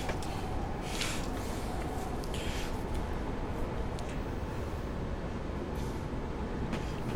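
Class 76 electric locomotive running on the Woodhead Line in Train Simulator, a steady close rumbling drone with rail and wheel noise that holds at an even level throughout, with no talking.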